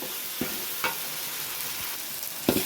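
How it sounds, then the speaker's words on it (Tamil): Onions and tomatoes sautéing in hot oil with mustard seeds for a field crab gravy give a steady close sizzle, broken by a few sharp stirring scrapes and spatters. "எண்ணெய் கடுகு போட்டு வெங்காயம் தக்காளிலாம் போட்டு வதக்கிட்டு இருக்கோம்"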